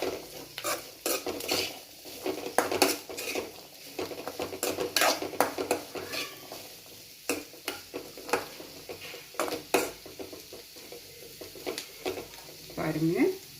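Black chickpea sundal with coconut being stirred in a pan, with repeated scraping taps of a spoon against metal and a faint sizzle underneath, close and steady throughout.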